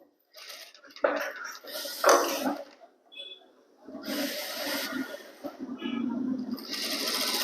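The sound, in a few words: sewing machine stitching fabric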